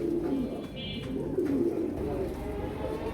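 Pigeons coo continuously at a bird market in Nitaiganj, Narayanganj, soft overlapping low calls close by with a faint murmur of voices behind.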